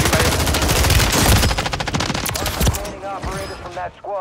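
Rapid bursts of automatic gunfire in a video game shooter ring out loud and close, dense at first and then thinning into separate shots, with a voice speaking over part of it.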